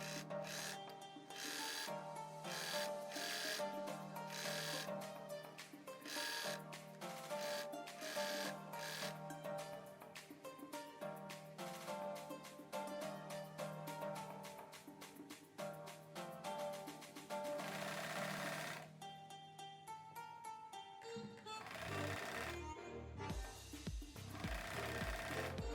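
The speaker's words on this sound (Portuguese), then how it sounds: "Eu vou primeiro passar uma costura por cima do elástico, depois eu vou dobrar ele 2 vezes na máquina doméstica" A domestic sewing machine stitches elastic onto a viscose (viscolinho) dress, running in fast rapid bursts with short pauses and restarts, loud and close, ending with a few slower stitches.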